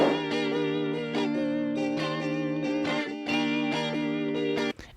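Clean electric guitar recorded in a home studio plays sustained chords through a flanger modulation effect, giving a sweeping, swirling shimmer over regular strummed changes, close and alone with no talking.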